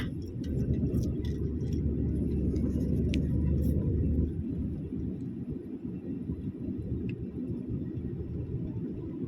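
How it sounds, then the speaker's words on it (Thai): A car drives across a bridge, heard from inside as a steady low rumble of road and engine noise that stays loud and close throughout, with no talk. "ข้ามสะพาน แล้วก็ขับตรงไปเลยค่ะ"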